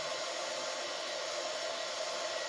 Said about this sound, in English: So I use a hair dryer, heat gun, and see if we can get a hold of it and peel it off without hurting the paint.